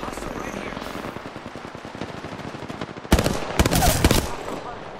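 Enemy gunfire in a squad-based shooter video game, rapid automatic bursts crackling loudly and briefly throughout, rising to a dense close volley near the end.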